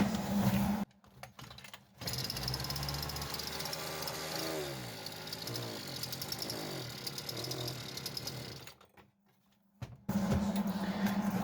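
A Kitprom Taiga gasoline brush cutter starts up and runs with a rough, buzzing two-stroke drone, with brief drops to near silence between bursts and the engine note wavering under load.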